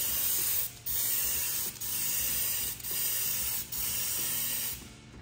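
A spray can lays olive drab green paint onto a test swatch on a snowcat body, giving a loud steady hiss broken into roughly one-second passes by short pauses.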